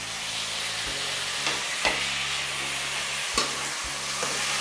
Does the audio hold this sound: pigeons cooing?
no